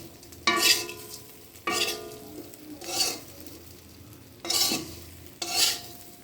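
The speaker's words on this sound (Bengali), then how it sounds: "এখন এটাতে আমি ভেজে রাখা পনিরের পিসগুলো মিশিয়ে দিচ্ছি এবং একসাথে ভেজে মিশিয়ে নিচ্ছি" Pieces of fried chhana (paneer) being stirred in a hot pan for a vegetarian curry: five distinct scraping stirs at an uneven rhythm over a steady low sizzle, close and clear, no talk.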